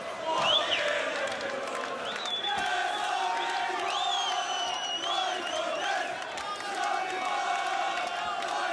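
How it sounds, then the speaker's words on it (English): A large crowd at a BAMMA 26 mixed martial arts event roars, cheers and whoops loudly and steadily, with singing voices and shouts rising over a dense, continuous wall of noise. "the crowd behind us is singing and dancing"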